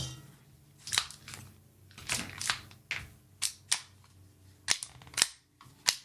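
A magazine is pulled from a Staccato 2011 CS 2024 pistol fitted with an Aimpoint Acro P2, giving a string of sharp, close metallic clicks and snaps at irregular intervals with quiet gaps between.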